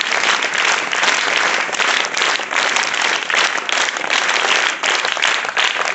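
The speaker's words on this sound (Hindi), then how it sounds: "इसकी शुरुआत हम लोग एक अच्छी सी ताली के साथ करेंगे।" An audience breaks into steady, full applause, dense clapping that stays loud and even from start to finish.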